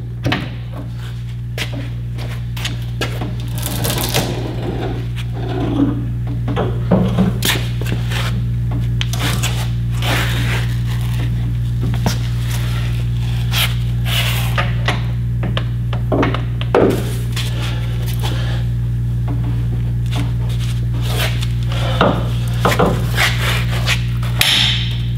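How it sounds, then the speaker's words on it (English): A torque wrench set to 500 foot-pounds tightens the wheel lug nuts on an XL Specialized RGN trailer, giving scattered metallic clicks and clunks over a steady low mechanical hum. "Now with my torque wrench set to 500 foot-pounds, now it's time to start torquing them."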